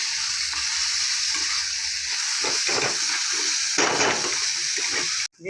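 Lentil bori pieces fry with beto greens in a pan, giving a loud, steady hiss of hot oil broken by stirring scrapes, ending abruptly.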